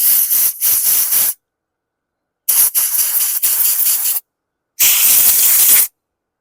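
Compressed air is blasted into the jet of a Briggs & Stratton 550E series carburetor from a Murray/MTD mower, as three loud, close bursts of hissing spray separated by short silences, with the first and second bursts briefly stuttering.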